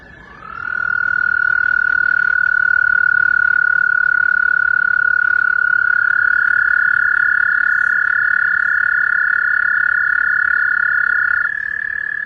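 A toad gives one long, steady, high trilling call that starts just after the opening and runs unbroken for about eleven seconds, loud and close, with no other sounds around it.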